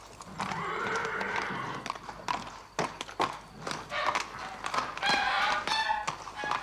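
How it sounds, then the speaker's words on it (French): Horse hooves clip-clop on a hard surface in a courtyard in an irregular rhythm, with a horse whinnying and snorting nearby amid busy background noise. "Il travaille son cheval dans la cour."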